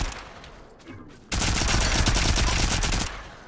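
Rapid gunfire aimed at enemies in the Volcanoids video game breaks in suddenly as a loud, sustained burst of closely packed shots for almost two seconds, then stops abruptly.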